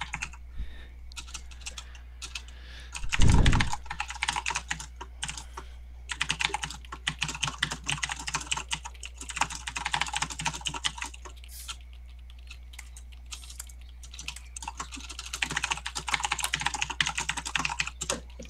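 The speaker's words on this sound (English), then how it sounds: "And you can tell it's me typing." Rapid, continuous typing on a computer keyboard, close and crisp, with brief pauses and one soft thump early on.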